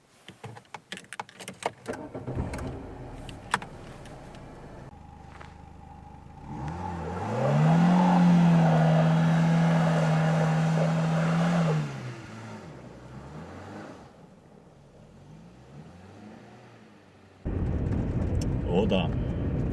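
A small car with a 1-litre engine accelerates, its engine note rising and holding steady for several seconds before fading, with quieter rustling before and a burst of noise at the end.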